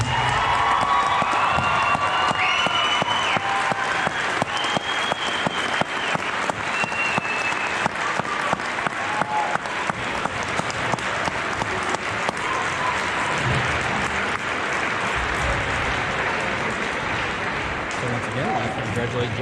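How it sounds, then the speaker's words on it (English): Loud, sustained applause and cheering from a crowd at a high school wrestling tournament, honoring a female state champion, with dense clapping throughout and shouts rising above it, while some voices carry underneath. "Let's give her a round of applause."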